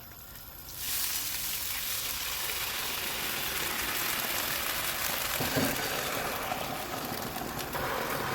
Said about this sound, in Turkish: ve 3 su bardağı soğuk su ekliyorum